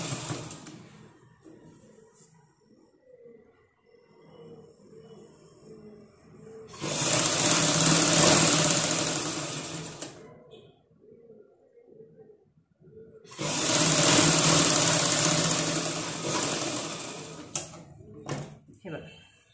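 A sewing machine stitches a fabric strip in two long, loud whirring bursts, separated by quieter stretches where someone talks.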